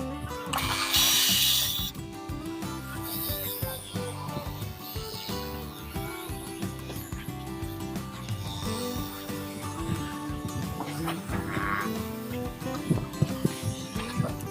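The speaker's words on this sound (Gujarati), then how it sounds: "આ મશીનથી આપણે આપણે એની એજ કટ કરવાના છીએ" An edge-cutting machine trims the border of a mattress on a factory floor, giving a steady mechanical buzz and whine with rattling bursts that runs close and continuously throughout.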